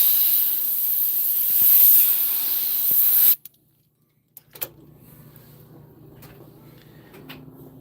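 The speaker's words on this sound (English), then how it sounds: "I grab my little air compressor here" A small air compressor blows a steady, loud hiss of air for about three seconds, then cuts off abruptly, followed by quiet with a few faint clicks and handling knocks.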